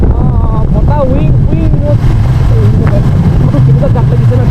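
Wind roars steadily past the microphone while riding a motorbike, a loud constant low rumble throughout, with someone talking over it.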